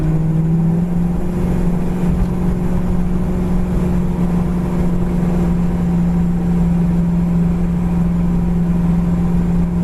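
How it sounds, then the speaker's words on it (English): A 1970 Plymouth Cuda's engine drones loudly and steadily from inside the car as it cruises up to speed, a low sustained hum with a slight pitch rise near the start. "Car gets right up to speed"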